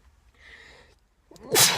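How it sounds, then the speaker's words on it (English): A single sharp sneeze, preceded by a soft breathy intake, close and loud at the end of the clip. "I have to sneeze"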